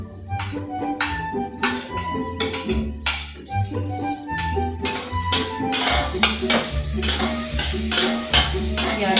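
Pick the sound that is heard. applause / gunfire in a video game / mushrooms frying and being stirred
mushrooms frying and being stirred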